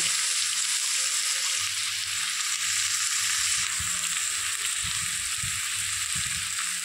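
Fish curry masala cooks down in a pan with a dense, even sizzling hiss, while low thuds and soft stirring knocks sound near the end, close up with no voices.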